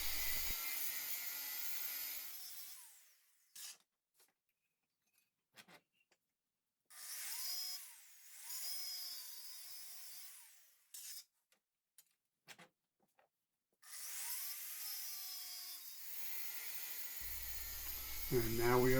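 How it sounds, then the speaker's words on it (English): Intermittent bursts of a power cutting tool slicing around the baffle shell of Hard Krome Big Straights exhaust pipes from a Yamaha V-Star 650, whining runs separated by silent pauses, with brief speech. "Here I'm just slicing around the other side of the baffle, same as the first side"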